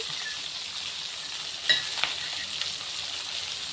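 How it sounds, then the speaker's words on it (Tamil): Ivy gourd fries in hot oil in a pan, making a continuous close sizzle with a couple of brief knocks from stirring and no speech. "கோவக்காய் ஒரு அளவுக்கு ஃப்ரை ஆகிருக்குங்க"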